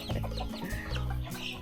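Several chickens cluck and murmur close by in a small, crowded backyard coop, overlapping throaty calls coming in quick irregular bursts.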